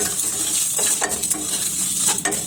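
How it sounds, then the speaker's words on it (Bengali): Whole mustard seeds crackle and sizzle in a hot pan for a mango pickle, with steady frying hiss and a few soft scraping strokes of a spoon stirring them. "সর্ষেটা দিয়ে অল্প নাড়াচাড়া করে নামিয়ে নেবো হালকা ভাজা ভাজা হলে"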